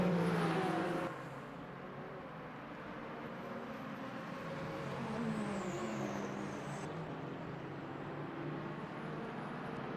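A Lamborghini race car engine drones steadily in Le Mans Ultimate, with worn, flat-spotted tyres. A loud burst opens, then the engine holds a low, even drone with slight swells in pitch for about ten seconds.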